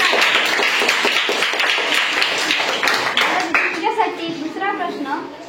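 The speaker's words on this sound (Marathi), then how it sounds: "इथे सगळ्यांनी टाळ्या वाजवायच्या" Schoolchildren at a Zilla Parishad primary school quiz clap together in a brief burst of quick, close hand claps, mixed with children's voices and chatter that continue over and after the clapping.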